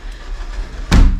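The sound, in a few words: door being closed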